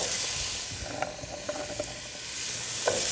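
Roughly chopped vegetables sizzle in a pan with onions, a soft steady hiss at low volume with scattered small clicks and scrapes of stirring, no voices.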